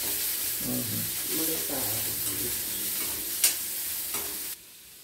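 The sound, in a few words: onion sautéing in a pan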